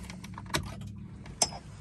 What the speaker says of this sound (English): Then I'm going to turn the key to the on position.